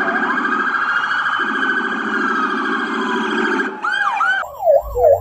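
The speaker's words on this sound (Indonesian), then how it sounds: "Di sini ada mobil polisi." A toy police car siren wails in a steady, rising-and-falling electronic tone, then switches to quicker warbling yelps near the end. It sounds close and loud, with no voices.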